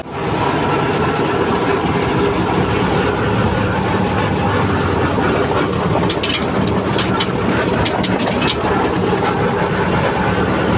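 ACE tractor engine running steadily in a paddy field being puddled near the Ghaggar river, a constant loud drone filling the whole stretch with no talk.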